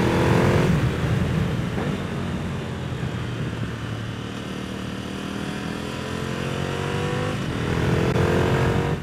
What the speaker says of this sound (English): But the Endcan is a Cobra Exhausts RX77. What is there to be said? It sounds utterly glorious.